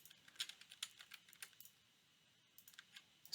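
Computer keyboard arrow keys are tapped while animating with a bone tool in Adobe Animate, giving a run of light, irregular clicks close to the mic, then a short pause before a few more taps in a quiet room.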